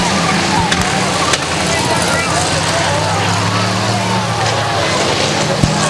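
Race cars at Hudson Speedway, New Hampshire, run on a wet track while one car spins out on the straightaway. Engines roar loud and close in a continuous droning blur, with a few sharp bumps cutting through.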